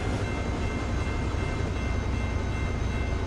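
An Amtrak Superliner train in the RO-Scale Sandbox video game, heard as a loud, dense, continuous rumbling roar of rolling rail noise with no breaks.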